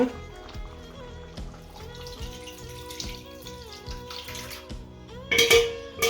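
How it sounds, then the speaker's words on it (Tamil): Dissolved spice paste, ground in a mixer and thinned with water, is poured into a simmering Sri Lankan curry, giving a splashing, trickling liquid pour that builds to a louder gush near the end. "அப்புறம் சரக்கை கரைச்சி ஊற்ற போகிறோன்னு பாருங்க."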